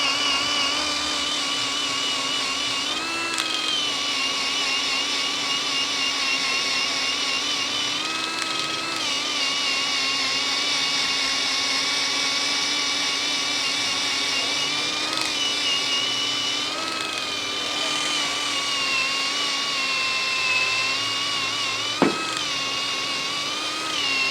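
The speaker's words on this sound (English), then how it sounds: "So this is the wheel you'd use for if you're doing any decal removals as well" A power tool spins a decal removal wheel against a Toyota Hilux N80's paint, giving a continuous high, whining drone that dips slightly in pitch now and then as pressure changes, loud and close.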